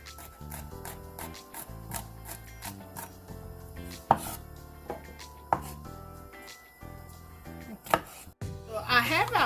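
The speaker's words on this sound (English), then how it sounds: "Next, we're gonna chop our garlic." A knife chops garlic on a wooden board in quick, irregular sharp taps, with a few louder strikes and a brief scraping rustle near the end, close and clear.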